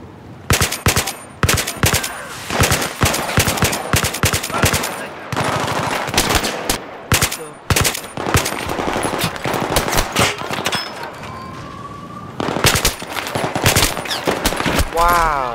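Suppressed gunfire in the shooter Battlefield 3, dense bursts of rapid automatic shots in a nearly continuous rhythm, loud and close, with other combat sounds mixed in.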